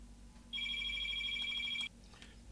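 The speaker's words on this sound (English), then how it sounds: "And why is my phone ringing?" A phone rings in a repair workshop, one bright electronic ringtone burst of just over a second rising abruptly over quiet room noise and cutting off cleanly.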